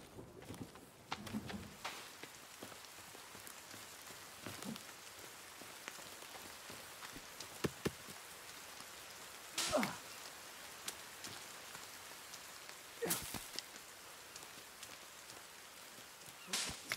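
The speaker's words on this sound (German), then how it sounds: "und es regnet wieder" Steady patter of rain in the video game The Forest, continuous and moderate, with a few sharper clicks and thumps breaking through now and then.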